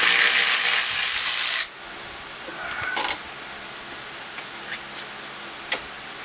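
Ratchet wrench loosening 10mm bolts on the radiator fans of a 1997 Nissan Altima, a brief burst of rapid clicking followed by quieter scattered metallic ticks and clinks close by, no talking.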